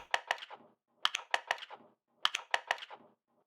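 Percussion track softened by a transient shaper that reduces the attack, with auto pan: short clicky hits in quick clusters of four or five, repeating in three bursts with gaps, fairly quiet and with no voices.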